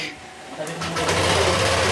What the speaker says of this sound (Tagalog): kapag once na ganito yung tunog ng motor ninyo